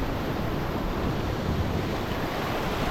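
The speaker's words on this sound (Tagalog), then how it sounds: "Ang lakas ng agos" Strong sea current with heavy waves, a dense continuous roar of rushing water and surf, loud and close, steady without breaks, with no voices.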